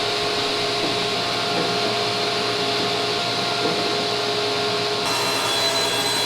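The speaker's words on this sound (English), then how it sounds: "I'm going to make all the cuts for the sides and the tops at one time" A saw cuts wooden pieces for the sides and tops of a wall cabinet in a woodworking shop, giving a loud, continuous, close whine with a steady droning hum and no pauses.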